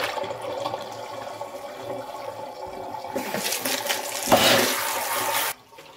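Mirror-cleaning solution is emptied out, gushing and splashing steadily for a couple of seconds, rising to a louder rush before stopping abruptly, with faint running water before it.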